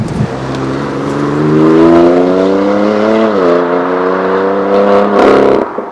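A BMW M4 GTS engine revs loud and close with a metallic, rasping edge, its pitch climbing, dipping, then rising again through a continuous howl.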